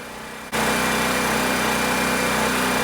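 A Harbor Freight generator powering a welder starts up after a short quiet moment, then runs loud and steady with a constant engine drone and no break for the rest of the clip.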